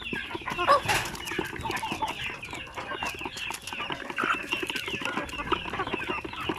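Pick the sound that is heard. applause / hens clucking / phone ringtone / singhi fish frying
hens clucking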